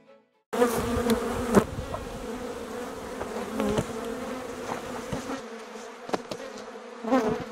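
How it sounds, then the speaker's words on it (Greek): Honeybees buzzing loudly and continuously close up around a hive opened without smoke, with a few sharper flyby buzzes and brief knocks. "Έπιασα ζωντανή μια μέλισσα"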